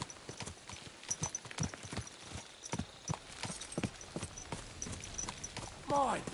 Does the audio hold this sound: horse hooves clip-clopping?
yes